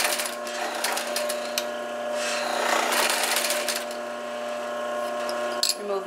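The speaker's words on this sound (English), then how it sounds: "And this time we will reverse our stitch to hold this in place." A sewing machine stitches the sides of a straw clutch, giving a steady rasping whir with scratchy texture that runs throughout, heard close under a voice.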